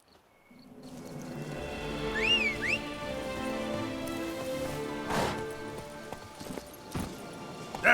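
Hooves of the horse Roach clip-clopping in The Witcher 3: Wild Hunt, Blood and Wine, a steady close trot under patter like rain, with a brief whinny-like call early on.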